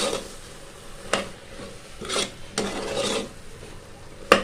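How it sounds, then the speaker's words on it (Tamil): Scraping and stirring of curry with coconut paste in a pan, with a steady rasping texture and a few sharper scrapes of a utensil against the metal. "நல்லா கலந்து விட்டுக்கலாம்."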